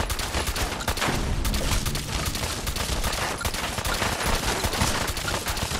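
Repeated shotgun blasts in the game Fallout 4, fired in rapid succession as a dense, loud, continuous barrage with no talking.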